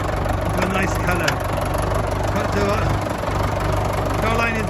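A Fordson Major tractor engine runs at a steady, close, loud idle with a knocking throb, and voices talk over it.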